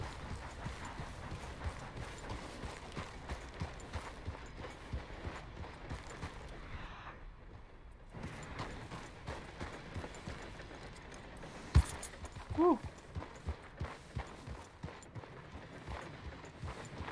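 Horse hooves trotting in Red Dead Redemption 2, a rapid rhythmic clip-clop that continues almost throughout with soft wind noise, briefly dropping away in the middle before picking up again.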